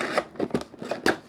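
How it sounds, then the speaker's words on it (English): Scissors snip through packaging tape on a toy box, a quick series of four or five crisp, close cuts in an irregular rhythm. "Quick snip of the tape"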